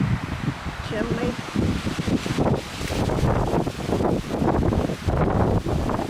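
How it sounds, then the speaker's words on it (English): Gusty wind rumbles against the microphone outdoors, with rustling in the background and people talking under the blustery noise. "Really windy today."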